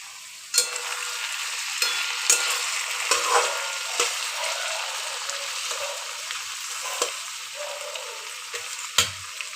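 Pumpkin curry (kumbalakai palya) seasoned with masala simmers and sizzles in a pan, a soft continuous bubbling hiss broken by scattered light clicks and taps of stirring.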